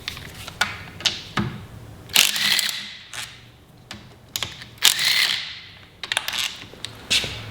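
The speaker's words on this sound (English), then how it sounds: "there's just a whole lot of 10mm flange fasteners, so we'll undo those" Small 10mm flange bolts being undone from an outboard motor's valve cover: a series of sharp, close ratchet clicks and metallic ticks in irregular bursts, with quiet pauses between, no voices.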